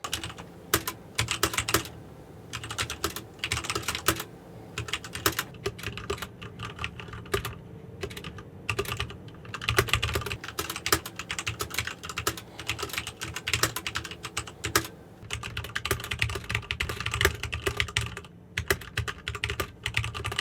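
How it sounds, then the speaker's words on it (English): Steady, fast typing on a keyboard with Cherry MX Speed switches, soft non-clicky key presses, rapid and continuous with brief pauses, close to the microphone. "My keyboard has the Cherry MX speed switches, which don't make that click sound"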